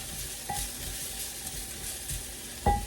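Poblano peppers roasting in a hot pan hiss with a constant soft sizzle while a utensil stirs them, with two brief metallic scrapes standing out, close and moderately quiet.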